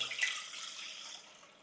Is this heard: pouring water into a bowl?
yes